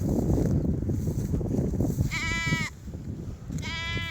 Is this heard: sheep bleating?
yes